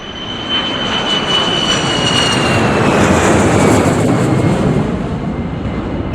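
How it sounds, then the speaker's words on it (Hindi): Fighter jet flying over the area around the Bhuj air base, a loud roaring engine wash that swells and holds with a thin high whine sliding down, then slowly recedes. "भुज जो एरिया है वो एक एयर बेस है, तो वहाँ पे जो जेट्स, फाइटर जेट्स उड़ते थे दिन में 3-4 दफ़ा"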